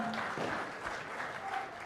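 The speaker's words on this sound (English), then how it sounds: "can we have a huge round of applause?" Audience applause for the winner of the Bengaluru Open golf tournament, round 4 at the Karnataka Golf Association: a steady, even wash of clapping held at moderate level for about two seconds, with no voices.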